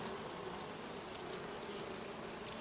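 Honeybees hum steadily at a nuc hive, a soft, even buzzing with no pauses, close but fairly quiet.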